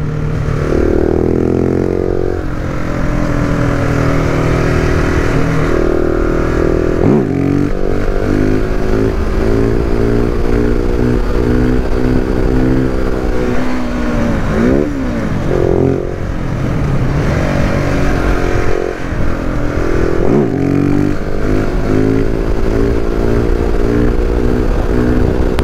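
2019 KTM 690 SMC R supermoto being ridden, its single-cylinder engine loud and close with repeated revving and gear changes under steady wind noise.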